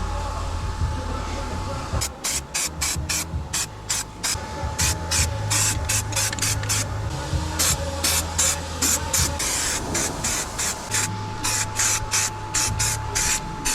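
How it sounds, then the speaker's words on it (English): Repeated short bursts of a spray gun laying down primer on a Honda Civic Type R, hissing in quick rhythmic passes over a low background hum. "Time to spray down the primer."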